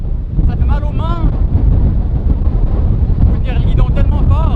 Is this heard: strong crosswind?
yes